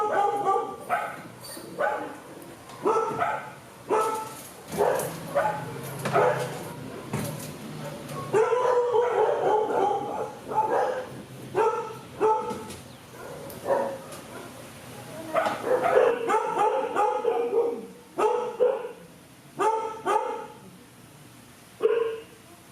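Several dogs being trapped for rehabilitation bark, yip and whimper in repeated bursts, fairly close and loud, with short excited yelps overlapping throughout.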